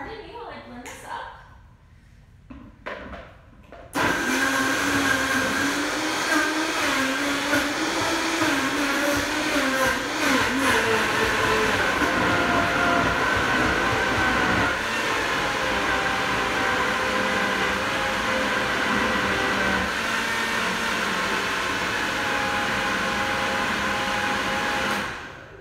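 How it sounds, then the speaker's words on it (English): A Vitamix blender runs steadily at high speed, blending a plant-based smoothie; a loud, continuous motor roar starts after a few seconds of quieter sounds and holds nearly unchanged to the end. "Okay, now pardon me while I blend this up."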